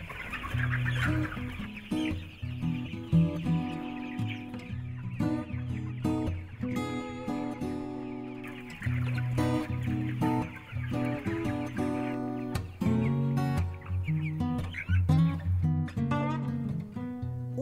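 A flock of free-range Carú chickens on a farm in São José do Cerrito, in Brazil's Planalto Serrano, clucks steadily. Overlapping calls sound close and continuous, with no talk.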